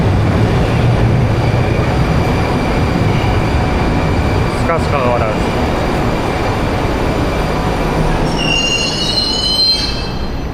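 A Moscow metro train at Molodyozhnaya station fills the space with a loud, steady rumble and wheel squeal, and a sharp high-pitched screech rises over it near the end.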